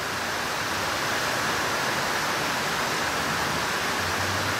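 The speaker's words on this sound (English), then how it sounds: "you can hear the actual intensity of the rain increasing right now." Heavy rain pours during Cyclone Owen in Far North Queensland, a dense, unbroken roar of falling water that stays loud and steady throughout.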